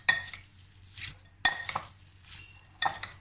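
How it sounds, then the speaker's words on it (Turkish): Bowl of Korean-style sesame carrot salad with crushed garlic being tossed, giving a few clinking utensil-on-bowl taps and soft wet stirring, close and clear. "Şimdi malzemelerimizi hafif karıştırıyoruz."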